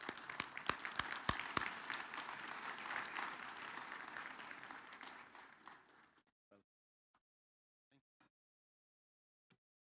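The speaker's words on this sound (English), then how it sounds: "Let's be standing and welcome him with a clap." Standing audience applause welcoming the guest of honor, Professor Deuri, at a Kenyan security and criminal justice institute graduation ceremony; a dense, steady roar of clapping for about six seconds, then thinning to a few scattered last claps.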